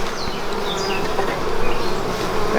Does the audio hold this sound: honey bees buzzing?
yes